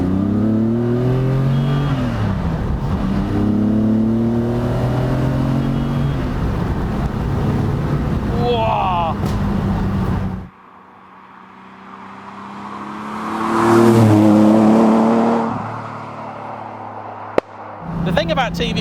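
A TVR Tuscan S accelerates hard in second gear, its engine climbing in pitch through rising revs, then cutting out abruptly to near silence before a fainter rising engine note returns.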